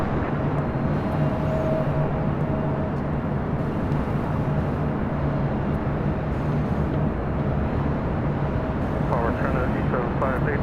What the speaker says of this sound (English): we got Korean Air A380 Superflight 18 now rolling down.